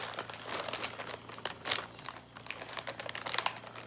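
Crinkly wrapping on a mailed package rustles and crackles in irregular bursts at close range as it is pulled open by hand, with sharper crunches scattered through about four seconds.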